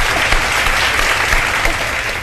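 Studio audience applause on a Pakistani television show, a dense, steady wash of clapping filling the room loudly for a couple of seconds with no pauses.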